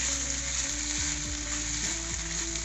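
Mushroom pieces frying in a pan give a steady, close sizzle throughout, with a few soft stirring scrapes and no talking.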